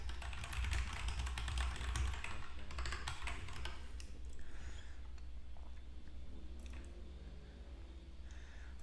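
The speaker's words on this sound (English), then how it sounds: "So I have to do it on stream, so more people can appreciate how loud my keyboard is." Loud computer keyboard typing, a dense run of fast clacky keystrokes heard up close, busiest in the first few seconds and then steadier, with no talking over it.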